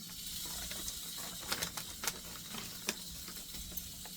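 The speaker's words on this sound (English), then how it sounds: "Nice little sizzle on the grill pan." Salmon fillet sizzling on a hot grill pan, a steady hissing crackle with a few sharper pops and spits standing out, close and fairly quiet, no talking.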